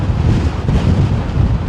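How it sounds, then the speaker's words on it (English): Strong gusting wind during Storm Eunice buffets the microphone in a continuous, loud low roar that surges and eases throughout, with no talking. "Winds are gusting."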